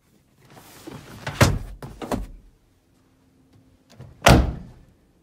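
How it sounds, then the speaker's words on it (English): A few quick thumps and clicks of a 2018 Jeep Wrangler Unlimited Rubicon fuel door being opened, then after a pause one sharp snap as it shuts, close by. "New fuel door."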